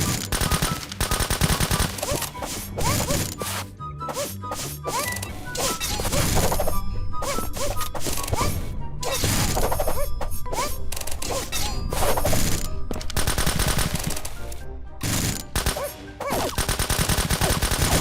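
Gunfire in the video game VIVI H-Game, with rapid machine-gun bursts, impacts and crashing hits packed densely together, loud and nearly continuous, broken by a few brief gaps, alongside game music.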